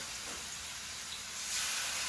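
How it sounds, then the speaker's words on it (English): A steady, broad sizzle of chicken searing in a hot pan, constant and moderately loud, swelling slightly toward the end with no voices. "We're pan searing it."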